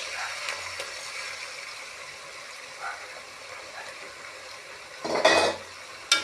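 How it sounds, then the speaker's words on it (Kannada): An egg frying with onions in a pan for egg rice gives a quiet, low sizzle, with a spatula stirring and scraping in a brief louder burst near the end. "ಮೊಟ್ಟೆನ ಈಗ ಚೆನ್ನಾಗಿ ಫ್ರೈ ಮಾಡಬೇಕು."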